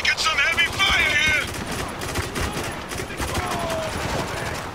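Dense rapid gunfire rattles through a Spec Ops: The Line battle, continuous bursts blending into a loud close fusillade with shouted voices and music tones over the top.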